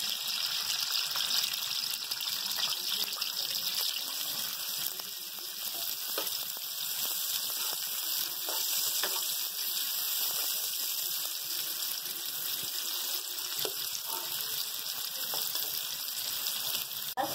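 Sliced onions frying in hot oil for kaleji masala, a steady, dense sizzle that crackles continuously and evenly throughout, close and fairly loud, with no voices.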